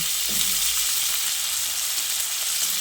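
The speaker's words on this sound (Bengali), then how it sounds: "এবার আমি আলুটাকে ফোড়নের সঙ্গে ভালো করে নেড়ে চেড়ে মিশিয়ে নিচ্ছি।" Diced potatoes fry and sizzle in hot oil with spice tempering as they are stirred, a steady loud close hiss throughout with faint scraping.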